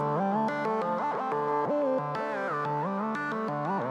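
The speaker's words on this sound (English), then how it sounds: "So the next one that I added is more in the medium range with a lot of reverb." A mid-range plug bass layer drenched in heavy reverb plays a steady stream of short, sliding, gliding notes at even loudness, the wash of the reverb filling the gaps between them in a music production layering demonstration.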